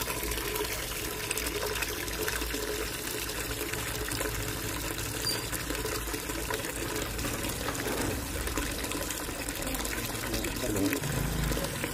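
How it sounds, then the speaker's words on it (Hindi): Water pours steadily into a drinking container set up for pigeons in winter, a continuous splashing fill that runs for the whole stretch while someone speaks briefly over it. "इनके लिए भी पानी तैयार करता हूँ।"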